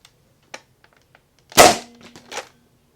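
A Nerf blaster fires a foam missile with one loud sharp pop and a short rattling clatter, set among a few light clicks and taps in an otherwise quiet room, with no talking.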